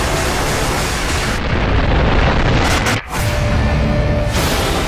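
A massive volcanic eruption at Baekdusan (Mount Paektu) from the disaster film Ashfall: a loud, sustained broadband roar and rumble that briefly dips before surging back, with no voices.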